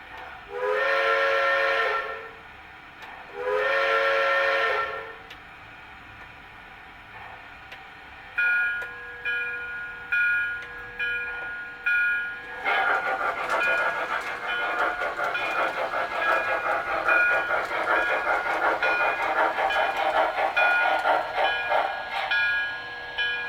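A model train whistle on an MTH RailKing Chippewa Hiawatha set blows in two long harmonic blasts, then shorter toots over a steady rolling rumble of the train running on track.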